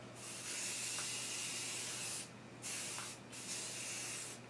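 A spray paint can hisses in three steady bursts separated by short pauses, close and fairly loud, in a woodworking shop.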